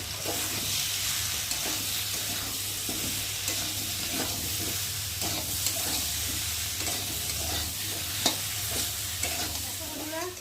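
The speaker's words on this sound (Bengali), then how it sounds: "এই যে সিদ্ধ করে রাখা কুচো সবজি এগুলোকে ভালো করে মশলার সাথে আর মিশিয়ে নেব" Boiled chopped vegetables being stirred with ground ginger and cumin spices in a frying pan, a steady soft sizzle with repeated scraping stirs of the spatula throughout, alone without talk.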